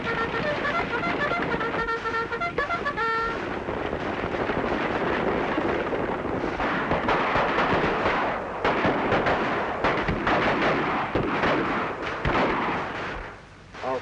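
Gunfire and blasts from a battle attack in a 1936 western cavalry film, a dense, continuous roar of shots and explosions with brief horn-like tones early on, loud and sustained throughout.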